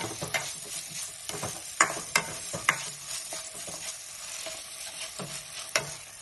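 Onions soften in a pan on the stove for onion rice, a low continuous sizzle broken by several sharp clinks and scrapes of a spoon against the metal, close by and with no talking.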